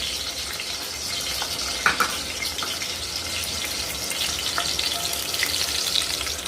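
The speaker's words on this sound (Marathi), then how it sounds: "त्यामध्ये मी ही अंडी सोडून देणार आहे, जरा थोडंसं जपून, कारण अंडे थोडेसे उडतात वर।" Eggs drop into hot oil in a pan and fry, giving a continuous crackling sizzle with a few sharper pops and spatters that carry on steadily through the clip.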